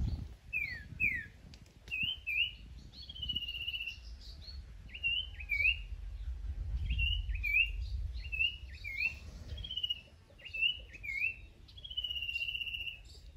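A male decoy bird sings a repeated series of short, high, bright chirping phrases, clear and fairly close, over faint low background rumble and no talking.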